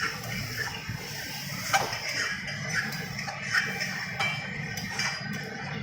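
A spatula scrapes and clinks against a kadai while mung dal is stirred, with light irregular metallic taps and scrapes over a soft background hiss.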